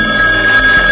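A telephone rings with a steady, loud electronic trill, close by and uninterrupted, with no voices.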